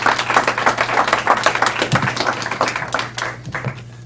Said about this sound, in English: please give a round of welcome applause to Mike Splinter.